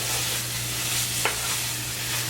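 Flour roux with milk being stirred in a pan for a tuna casserole, a steady soft stirring and faint sizzle under a low hum, with one brief scrape partway through.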